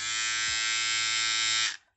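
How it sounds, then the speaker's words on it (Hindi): Philips MG3721/77 electric trimmer with stainless steel blades, after six months of use, buzzing at a steady high whine for under two seconds before switching off abruptly, close and loud. "अब ऊपर हम ना ट्रिमर की बात कर लेते तो ये आपको स्टेनलेस स्टील देखने को मिलेगा तो जैसे कि मैं इसे चालू करके बताता हूँ साउंड किस टाइप का आएगा"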